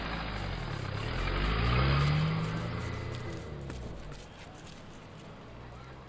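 A car engine revs and drives off. A low mid-pitched engine tone rises to a peak and then recedes as the car pulls away, with a steady background hiss.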